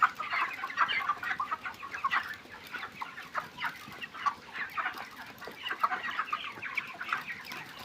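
Many chickens cluck and chatter continuously in a large flock at a poultry farm with nipple drinker lines, a busy, dense chorus of soft calls heard fairly close.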